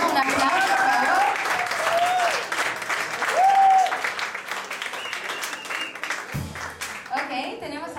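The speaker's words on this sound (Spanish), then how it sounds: "Un aplauso, por favor." Audience applause for a pianist at a live concert, a sustained crowd clapping with a few whistles and cheers over it, thinning toward the end as a voice speaks.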